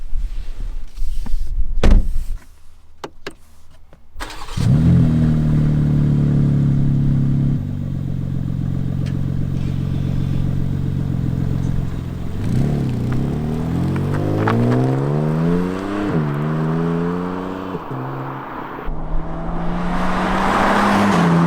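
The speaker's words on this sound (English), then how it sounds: "it's time to hit the road, take the M2 for a brief drive" A new G87 BMW M2 out on a twisting rural back road, its engine rising through a strong droning note and climbing again after each shift, loud and close with steady road rumble underneath.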